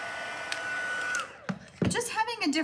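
A heat tool blows over embossing powder on a stamped card, making a steady whirring hum for just over a second before cutting off, after which a voice speaks nearby.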